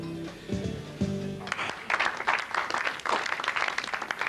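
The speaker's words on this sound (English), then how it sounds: "Here they are, folks. Big round of applause." A studio or club audience breaks into sustained applause and clapping for a live act, starting after a short burst of tonal music and continuing loudly, dense and unbroken, to the end.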